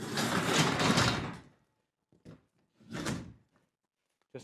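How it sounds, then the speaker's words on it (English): A garage door rumbles closed with a long rolling scrape, followed by a few light knocks and a second shorter rattling thud, fairly close in a quiet space. "And shut this door again"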